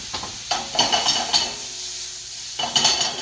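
Tomatoes go into a pan of cooking onions, bringing bursts of sizzling hiss and a few clinks of a utensil against the pan, irregular and close by, with no voices.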